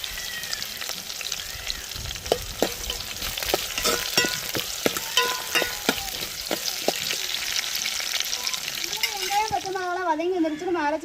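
Chopped onion and green chili fry in a pan for mutton curry, with a steady loud sizzle broken by repeated stirring clicks and scrapes, and a voice talking over it near the end.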